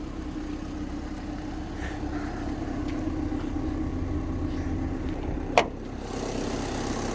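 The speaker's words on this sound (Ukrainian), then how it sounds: "Мотор працює на собі справно" Skoda Superb engine running at idle, a quiet, even hum that holds steady throughout, with one brief sharp click shortly before the end.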